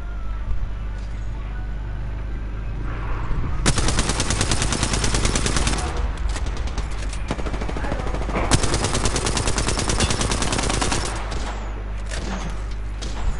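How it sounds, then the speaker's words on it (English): Gunfire in a PS4 shooter where a sniper rifle is in use, loud sustained bursts of rapid automatic fire with sharp reports and a few heavy booms, continuous and close. "Dia pakai sniper."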